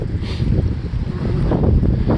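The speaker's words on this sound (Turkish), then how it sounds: "Yalnız rüzgar biraz fazla." Strong wind buffets the microphone with a steady, heavy rumble and roar throughout, no voices, on a sunny day in a small town in the Netherlands.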